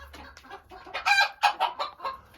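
Dwarf Cochin hens cluck close by in a farmyard, with a run of loud, rhythmic clucks and squawks rising in the second half of the clip.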